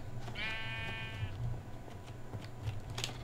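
One wavering sheep bleat from Minecraft near the start, followed by faint clicking and a low background hum.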